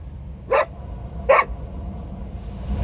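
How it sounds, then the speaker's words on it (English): A dog barks twice in sharp, separate yaps from inside a truck cab hauling a heavy load through Brooklyn, over a steady low engine and road rumble. "He's barking at the guy on the motorcycle."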